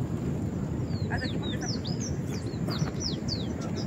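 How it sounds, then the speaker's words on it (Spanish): Small birds chirping near a nest, with high, thin repeated tweets scattered over a steady noisy background, while people talk quietly nearby. "Hay unos pajaritos."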